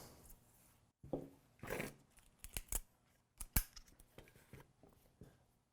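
Scissors snipping string while making string art, several quiet close blade snips and small handling rustles spread unevenly over a few seconds, with no talking.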